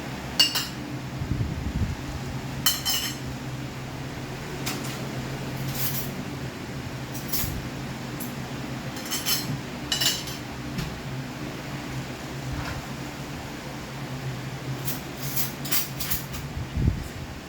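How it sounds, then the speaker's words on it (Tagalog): Plates set out for a meal give scattered light clinks and clatters of dishes and cutlery at intervals over a quiet room hum, no talk. "niready ko na yung mga pinggan namin"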